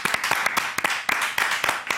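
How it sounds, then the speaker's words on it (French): A studio audience claps for a French-language comedy show, giving a sparse, irregular patter of sharp individual claps that sound close and moderately loud. "On applaudit, s'il te plaît."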